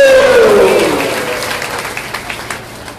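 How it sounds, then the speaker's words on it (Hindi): An audience at a Bhagwat-katha religious discourse bursts into loud applause, a dense clatter of clapping that gradually thins and fades over a few seconds. "आप सबके लिए जोरदार तालियां"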